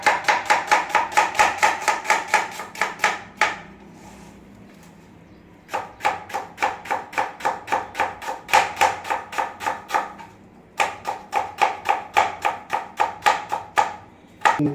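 Rapid, even knife strokes chopping onion on a board while making a fluffy omelette, two long bursts of close, sharp taps separated by short pauses, with no talk.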